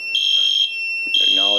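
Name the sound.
fire alarm system beeping once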